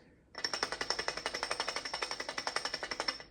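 A fast, steady mechanical rattling, a loose lightsaber battery pack hanging from a wire clattering in rapid regular bursts close up, with no talk.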